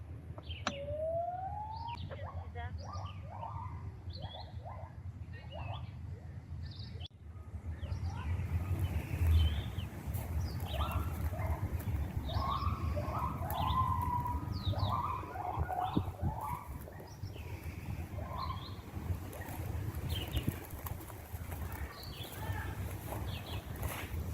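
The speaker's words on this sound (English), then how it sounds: "You can hear the gibbons calling to each other in the background." Gibbons call in the distance at a zoo, bursts of rising, whooping notes that repeat in quick series, over a steady low rumble of background noise.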